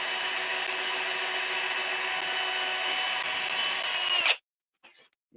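A power drill whines steadily as its bit works through material for about four seconds, then cuts off abruptly, followed by brief faint handling noises.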